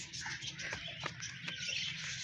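Small parrots at a zoo chirp and tweet in short, faint bursts against a quiet outdoor background, with no clear speech.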